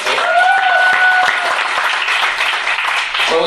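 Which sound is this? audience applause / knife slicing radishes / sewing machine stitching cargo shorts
audience applause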